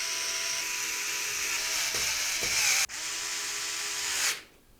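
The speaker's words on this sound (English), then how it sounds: "we can screw the power supply into place with 4 of the larger screws from the case accessory box" An electric screwdriver or drill drives the larger case screws that fasten a power supply into a Raidmax X603 PC case, a steady whirring motor whine with a brief pause and ratcheting clicks before it stops, close and alone.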